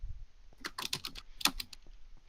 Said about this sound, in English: And more furious typing.